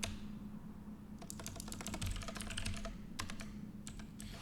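Bursts of rapid typing on a computer keyboard while writing code, close and clear, with short pauses between runs of keystrokes.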